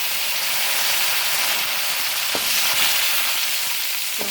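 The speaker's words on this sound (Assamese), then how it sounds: "নৰসিংহৰ পাতকেইটা ভাজিলোঁ।" Curry leaves frying in a pan, a loud continuous hissing sizzle close by, with a couple of faint utensil taps and no voices.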